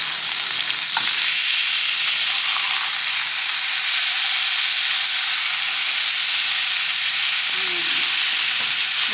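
Steak and scallops searing in a hot pan give a steady, loud, close sizzle and hiss that holds unbroken throughout, with no voices.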